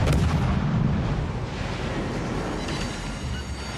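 Heavy naval artillery booms out in World of Warships Legends, with a loud, close blast at the start. A deep, rumbling roar follows and lingers for several seconds without any speech.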